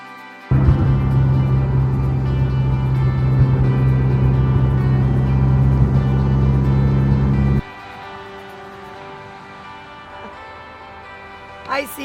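A car cruising along the scenic lakeside drive of the Minnesota North Shore on Lake Superior, a loud steady engine and road rumble from inside the cabin that drops off abruptly to a quiet hum.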